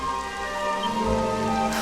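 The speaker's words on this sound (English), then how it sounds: "Why does it always start raining the second we get a chance to be around?" Rain falling in the video game Dragon Quest XI S, a steady soft patter alone against a sustained tonal music bed, swelling slightly toward the end.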